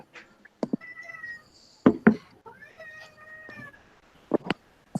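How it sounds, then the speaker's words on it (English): A cat meows a few times close by, with sharp knocking thumps in between and quiet gaps. "I hear a kitty."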